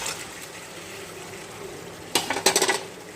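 Chicken for a Dak Bungalow-style curry is added to a pan of browned masala, with a faint steady sizzle followed by a quick burst of close clattering and scraping against the pan near the end.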